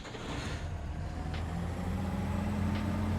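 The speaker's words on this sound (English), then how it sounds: "as well as car sounds" Vehicle engine sound in the Apocalypse Rising 2 video game is a steady, low, droning car motor running continuously at moderate level, with no talking.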